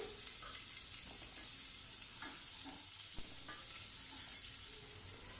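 Chopped green chillies and ginger-garlic paste fry in a pan for a mutton dish, giving a steady, fairly quiet sizzle with soft stirring scrapes mixed in.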